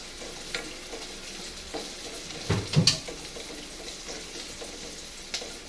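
Onion, garlic and chopped tomatoes frying in a pan for a mixed-vegetable dish, giving a steady low sizzle with a few clattering stirs and scrapes near the middle.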